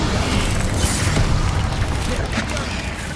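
An Incendio fire spell blast roars in Hogwarts Legacy as a dense, loud whooshing burst of flame and rumble that fills the whole short moment without letting up.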